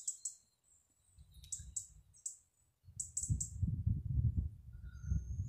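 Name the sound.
birds singing outdoors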